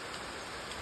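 Rain falls outdoors as a soft, even hiss of drops, faint and continuous with no voices.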